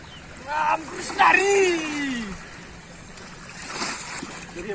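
A heavy, soaked blanket (godhadi) being wrung out by hand at a riverbank in a village, with splashing and water splattering in short bursts, while voices talk over it.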